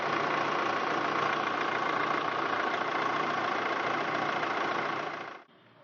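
A diesel engine idles steadily and fairly close for about five seconds, a dense even rumble with no voices, then cuts off abruptly near the end, leaving only faint background.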